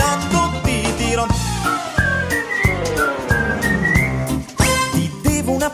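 Melodic whistling carries the tune of an Italian comic song on a radio broadcast, rising and falling phrases over steady band accompaniment with drums and guitar, loud and continuous throughout.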